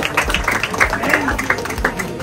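A congregation claps along during worship at an evangelical outreach, with rhythmic, steady handclaps from a crowd blended with background music and voices.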